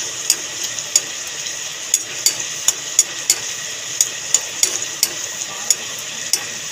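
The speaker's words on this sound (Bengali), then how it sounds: "নেড়ে চেড়ে ভালো করে লাল লাল করে রসুনগুলোকেও ভেজে নেব।" Garlic cloves sizzling steadily in hot oil while being stirred. A spatula scrapes and taps the pan in a quick, irregular series of close clicks that runs throughout, with no talk.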